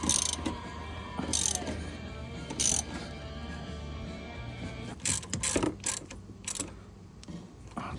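A ratchet threading an air ride fitting into a 1982 Honda Civic Wagon, heard as short bursts of clicking ratchet strokes at a steady rhythm over a constant low hum, close and clear.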